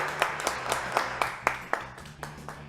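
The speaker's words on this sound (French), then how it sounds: "Allez, Philippe Bertrand, applaudissements." Applause from a television studio audience greeting a guest on a French talk show, with sparse, distinct claps at a steady rhythm over a low background hum.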